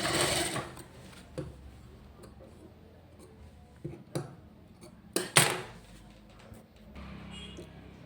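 A computer embroidery sewing machine stitches a blouse in quick bursts of mechanical ticking and clatter, with short pauses between runs and a few louder knocks.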